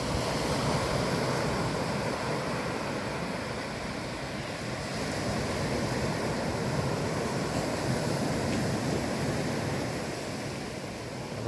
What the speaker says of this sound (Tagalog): kahit na malakas ang alon.